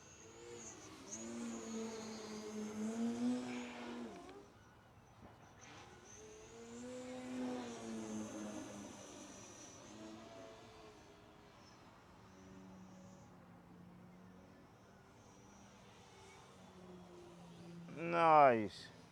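A Skywing 67-inch ARS300 RC plane flying overhead, its electric motor whining and sweeping up and down in pitch as it passes and turns, mostly distant and faint, then louder and closer near the end.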